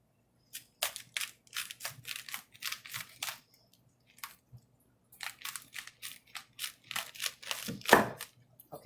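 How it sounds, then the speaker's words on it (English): A Misen chef's knife crunches through a red cabbage in a run of sharp, close crunches and cracks, with brief pauses between strokes and one heavier crack near the end. "I'm ready to cut up the cabbage"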